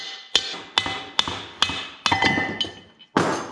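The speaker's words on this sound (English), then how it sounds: "We're just gonna press it out with the hammer." Sharp metallic hammer strikes knocking out the pinion flange of a BMW E36 differential ring out one after another at a steady pace, about eight blows with a bright clanging ring, close by.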